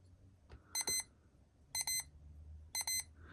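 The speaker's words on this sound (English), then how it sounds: "it's an extra loud alarm, more louder than normal, more louder than any other watch" A 1987 Casio watch sounds an extra loud alarm in three evenly spaced bursts of rapid, shrill electronic beeping, each about a quarter second long and close by, preceded by a small click.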